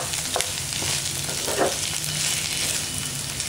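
Colocasia (taro root) sautéing with onions in a pan while being stirred, a steady close sizzle and frying hiss with light stirring scrapes throughout, no talking.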